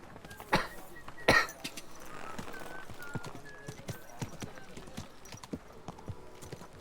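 Horse hooves clip-clop in the medieval video game Kingdom Come: Deliverance 2. A couple of loud hoof strikes lead into a softer, steady walking gait.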